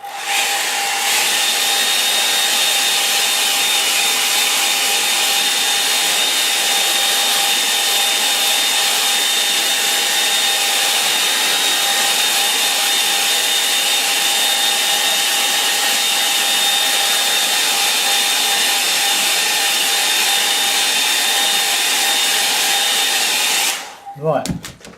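A hair dryer blows continuously on a watercolour painting of a Norfolk church, a loud, steady whooshing roar with a high whine that runs almost unbroken before cutting off near the end.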